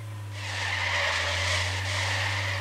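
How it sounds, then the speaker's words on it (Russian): A car skidding in the video game Trader Life Simulator 2, a sustained tire squeal rising in over a constant low engine hum and holding for about two seconds, with no talk. "занос вообще почти в управляемый вошел"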